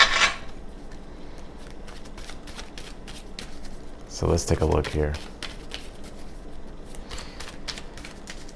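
A deck of tarot cards is shuffled in a short, crisp riffling burst partway through, while a person talks quietly over light handling noise.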